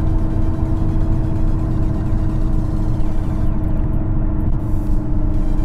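An Alfa Romeo, Fiat, Lancia or Jeep car cruises steadily in sixth gear, capped below 100 km/h, its engine a low, constant droning rumble mixed with road and wind noise inside the cabin, loud and unbroken.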